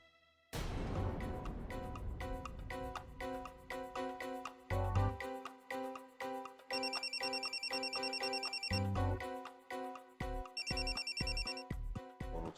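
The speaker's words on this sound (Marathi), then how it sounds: "फोन उचला" A telephone ringtone plays loudly in a Marathi TV serial scene, a repeating melodic ring with a bright electronic trill that recurs in bursts over a backing of music.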